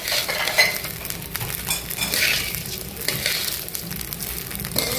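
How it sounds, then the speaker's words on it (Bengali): Rice fries in homemade ghee in a pan: a steady, close sizzle runs throughout, broken by scraping stir strokes as the grains are turned. No one speaks. "বাসায় যে বানানো ঘিটা আমাদের ছিল ওটা দিয়েই পুরো চালটা ভেজে নিচ্ছি।"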